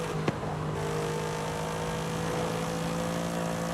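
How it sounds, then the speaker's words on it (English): V8 car engine in Forza Horizon 5 revving steadily and loudly up close, a sustained droning roar with no pause. "It really woke up the V8."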